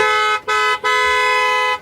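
A car horn honks in three loud, steady blasts close by, separated by short gaps, with the last blast held longest.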